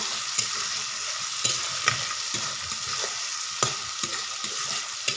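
Onions and tomatoes frying with salt in oil, a steady hiss of sizzling with irregular spatula scrapes and taps against the pan, close and moderately loud, no talking.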